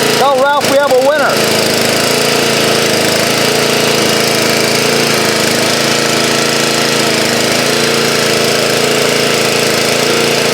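An old pressure washer's small engine runs loud and close in a continuous steady drone, with a brief warbling, wavering tone in the first second before it settles.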